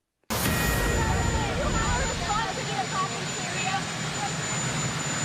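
A helicopter runs close to a press gathering, its loud steady whine and rotor roar starting abruptly and holding throughout while people talk nearby.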